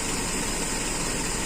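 A car engine with a standard carburetor idles steadily during carburetor adjustment, a constant, dense, even rumble with no break and no voices.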